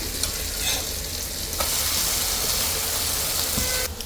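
Beans poriyal frying in a pan hisses and sizzles continuously, close and fairly loud, with spatula scrapes and stirring as the beans are turned over, no voices.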